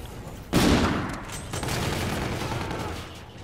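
Gunfire in the multiplayer shooter Call of Duty: Infinite Warfare, a sudden loud burst of shots followed by continued rattling fire and game noise over a few seconds, with no talking.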